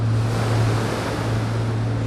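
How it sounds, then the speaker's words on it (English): Water of the River Thames in London washing steadily and close by, a constant broad rush with a low hum underneath and no voices. "I love the sound of the water."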